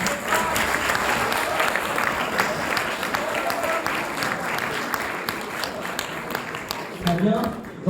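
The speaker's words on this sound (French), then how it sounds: "je vais demander à Fabien Desormeaux de me rejoindre sur scène et on l'applaudit" A large audience applauds on stage for the tenth-place prize winner at the final of a French eloquence contest, a steady dense wash of clapping filling the room, with a brief swell and voice near the end.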